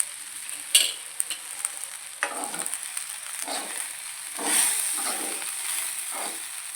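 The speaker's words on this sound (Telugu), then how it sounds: "మొత్తం అంతా కూడా కలిసిపోయేలాగా కలుపుకోవాలి" Puffed rice and salt are stirred in a hot pan for Rayalaseema-style uggani: a rushing sizzle with repeated scraping sweeps every second or so, close and fairly loud, with no talking.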